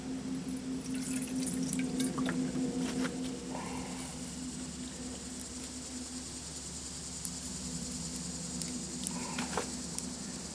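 Water poured from a container into a pot on an Emberlit titanium survival wood stove over a lively fire, giving a soft trickling patter with scattered drips and light splashes that run unevenly for about ten seconds.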